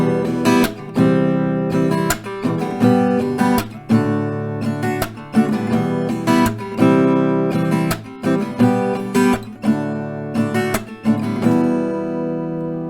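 Steel-string acoustic guitar strums through a couple of rounds of the verse and chorus of Anson Seabra's Kryptonite, rhythmic chords ringing loud and close with steady pauses between phrases, no voices.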